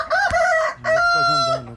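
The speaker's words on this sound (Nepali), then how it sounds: "भाले चाहिँ लोकल छ यहाँ चाहिँ। असली भाले हो नि त यो हैन।" A local village rooster crows twice, close and loud: one long harmonic call, a short pause, then a second full crow, with no talking.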